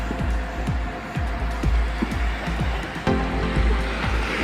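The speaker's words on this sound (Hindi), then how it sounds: "पानी को काटते काटते नाव अभी चल रही है।" Steady rushing and sloshing of water with a low engine rumble, like a boat cutting through waves, continuous and fairly loud.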